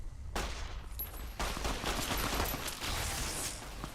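Pistol fire in the Fallout video game: a burst of sharp, close gunshots in quick succession, with a brief pause and then more rapid shots and echoing tails, loud and without talk.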